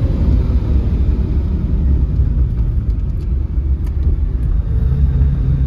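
A Lamborghini Countach engine rumbles steadily and loudly from inside the cabin, a deep continuous drone while driving in second gear at moderate revs.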